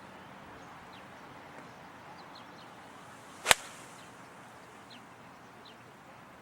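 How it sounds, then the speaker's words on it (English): A single sharp crack of a golf ball struck out of a sand bunker, loud and brief, standing alone against faint outdoor background with distant birds. "You hear how I hit ball first"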